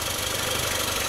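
A Yamaha F15 outboard motor, freshly valve-adjusted and warmed up, idles in a steady, even drone with a faint rhythmic knock, running continuously and fairly close without any voices.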